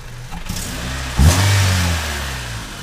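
A Honda Civic EF engine catches and starts, rising into a steady mid-pitched run close by with a brief rev, then settling at a fast idle with no talk.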